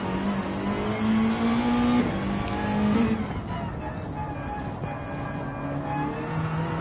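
Race car engine in a racing video game, a GR4 sprint race on the Nordschleife, drones steadily through corners with shifting pitch, under commentary voices talking throughout.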